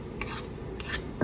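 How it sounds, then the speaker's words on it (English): A spoon scrapes against a bowl of blueberry muffin batter in a few short, close rasping strokes, with no talking. "I'm going to go ahead and scrape my spoon off a little bit here"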